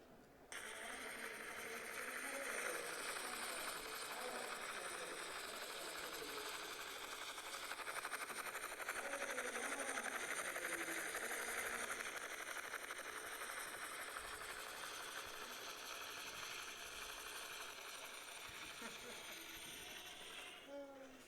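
A remote-control camera helicopter flies close at a billiards tournament, its rotor and motor giving a steady, loud whir with a continuous mechanical buzz that holds throughout.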